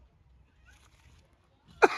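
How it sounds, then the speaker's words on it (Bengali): One sharp cough bursts out at the end of a near-silent moment, close and loud, after someone takes a first drag of a cigarette. "আরে আব্বা পয়লা বলে তো কাশি লাগবো।"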